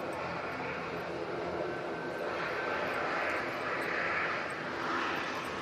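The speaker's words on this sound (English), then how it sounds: "Ryanair Max coming on in front now" A Ryanair Boeing 737 MAX approaches to land, its jet engines producing a steady broadband roar with gentle swells of a higher whine, heard alone without voices.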